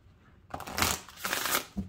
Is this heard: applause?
no